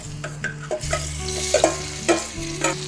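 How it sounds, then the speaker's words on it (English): Onions and garlic frying in rendered bacon fat in an Instant Pot on sauté, a close steady sizzle broken by a few sharp scraping stirs of a utensil against the pot. "now I'm going to fry the onions and the garlic"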